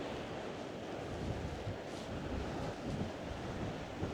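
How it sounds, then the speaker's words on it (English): Small waves wash steadily onto the shore at Portballintrae, a continuous soft surf with wind buffeting the microphone throughout and no voices. "she likes the wee waves"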